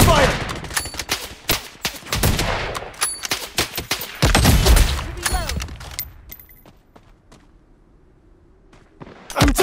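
Close, loud bursts of automatic gunfire in the shooter Blood Strike fill the first six seconds in rapid clustered cracks, then trail off into a few sparse scattered shots before another burst at the end.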